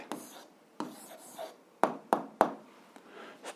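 Pen strokes scratching on paper while writing out an algebra answer, a few soft scribbling bursts followed by three sharp taps, close and quiet with no talk.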